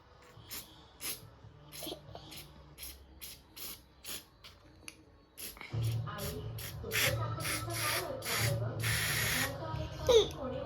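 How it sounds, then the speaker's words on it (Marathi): Repeated short bursts of an aerosol spray can hissing close by, several quick puffs followed by a longer spray, with a voice speaking in the background. "हा स्प्रे"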